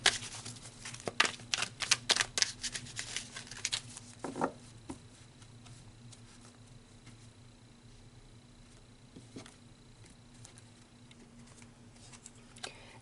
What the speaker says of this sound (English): Let's pull some tarot cards to get some clarity